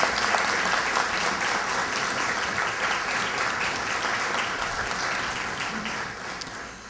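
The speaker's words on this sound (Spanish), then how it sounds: "Brindemos un fuerte aplauso al señor Manuel Sánchez Palacios Paiva." Dense, steady applause fills a formal ceremonial session for national holidays, many hands clapping at once and slowly tapering near the end, with no voices over it.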